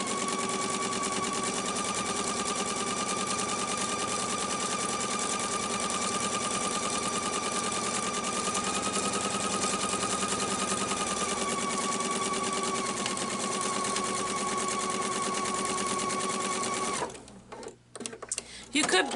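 A sewing machine runs steadily, stitching prairie point binding onto a pumpkin pillow, with a continuous whirring hum that stops near the end as fabric is shifted.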